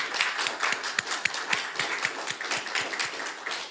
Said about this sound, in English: Please join me in giving them a round of applause for what they do.